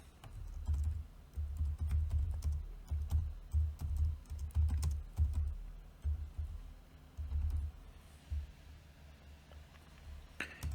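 Computer keyboard typing while writing code for a crypto trading bot, a steady stream of soft close keystrokes with dull low thumps, continuing almost without pause and thinning out near the end, no voices.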